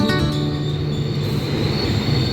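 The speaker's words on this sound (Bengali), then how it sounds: "আমার গো ট্রেন চলে এসছে" A GO Transit commuter train pulls into the station, a steady loud rumble of rolling wagons with a sustained high wheel squeal running throughout, no voices.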